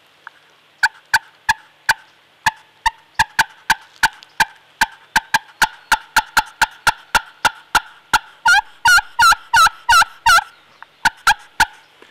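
A hand-held turkey call imitates a hen's clucks: sharp, loud single clucks spaced out at first, then quickening into a rapid run of close, louder notes before settling back to a few spaced clucks, with no voices.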